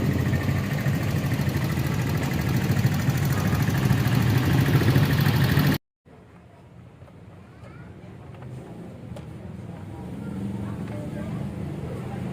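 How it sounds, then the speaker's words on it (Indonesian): A Viar VSR 200 motorcycle that was once dropped and has been worked on at a repair shop idles roughly with a loud, steady rumble. It cuts off abruptly midway, and a quieter, lower engine hum follows. "Mesinnya kasar ya."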